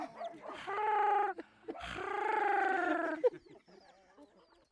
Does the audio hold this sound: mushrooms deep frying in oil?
no